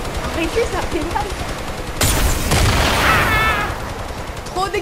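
Explosions and rapid gunfire from a Fortnite battle, a dense loud burst of blasts and shots, with players' voices talking over the action.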